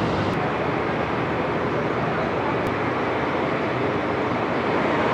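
An empty cement freight train from Cirebon Prujakan to Karangtalun, hauled by CC206 locomotive 20693 of the Cirebon depot, passes close by with a steady, loud, broadband roar and rumble. Two brief high clicks cut through the noise.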